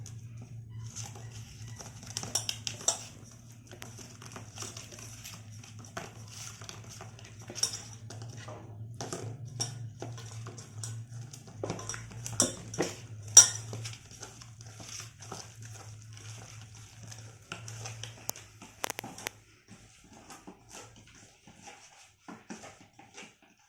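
A spoon stirs masala into a besan vegetable mixture, giving soft scattered scrapes and clinks against the vessel over a steady low hum, faint and irregular throughout.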